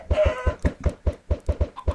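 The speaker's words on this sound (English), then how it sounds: "Just gonna get this chicken for a little bit." A Minecraft chicken clucks in quick regular bursts, about a dozen short rhythmic clucks in two seconds, clear and close with no talk.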